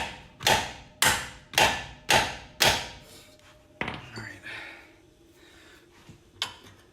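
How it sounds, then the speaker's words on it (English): Five hard, evenly spaced hammer blows ring out on a steel nut threaded on a stud of a 2000 Nissan Frontier upper control arm, loud and close, followed by fainter clanks and rustling. "when I whack it with a hammer"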